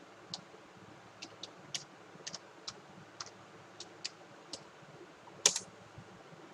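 A password being typed on a computer keyboard: about a dozen soft, separate key clicks at an uneven pace over a quiet room hum, ending in one sharper, louder keystroke.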